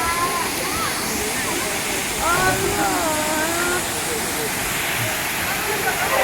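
Ayyappanov waterfall in Kerala pouring steadily with a broad, continuous rushing hiss, close and loud, while a voice talks over the roar.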